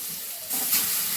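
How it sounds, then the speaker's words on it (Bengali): Eggplant pieces hit hot oil with black cumin, bursting into a loud, steady sizzle partway through after a quieter start. "এবারে দেখো এর মধ্যে আমি বেগুনগুলো দিয়ে দিচ্ছি।"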